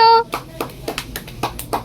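Hands clap in a quick, uneven series of sharp close claps after a child's short tonal call, roughly seven or eight claps in under two seconds.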